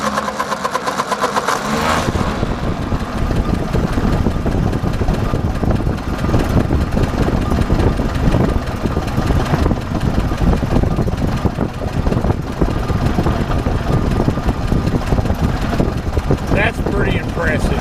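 A 1954 Ford Jubilee NAA tractor with a freshly replaced carburetor cranks over and settles into a steady running engine note, loud and close, continuing for most of the clip.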